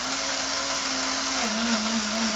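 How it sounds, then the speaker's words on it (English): A kitchen blender whirs at high speed, grinding a homemade falafel mixture with a loud, steady motor drone whose pitch dips slightly partway through. "Back to the blender."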